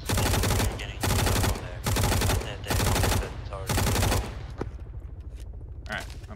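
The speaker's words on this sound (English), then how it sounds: "Yeah, something's shooting at us, like, I don't know where from" Bursts of automatic gunfire in the Arma 3 game set in Western Sahara: five loud, dense volleys of roughly half a second each, closely spaced, then quieter scattered shots and background noise.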